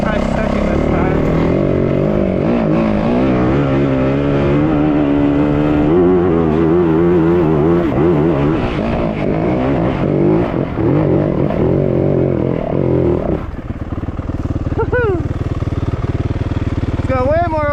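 A Yamaha WR450F dirt bike, uncorked, climbing a hill in second gear, its engine loud and close, revving and rising and falling in pitch, then easing off near the end as the rider speaks briefly.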